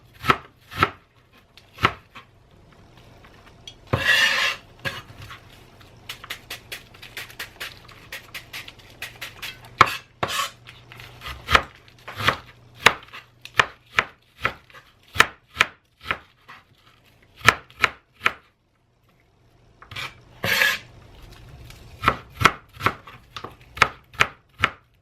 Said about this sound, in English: I'm going to chop up some onion.